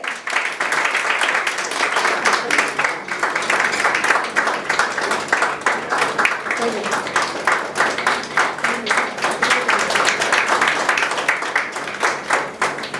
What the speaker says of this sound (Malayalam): നല്ലൊരു കൈയടി ആയിക്കോട്ടെ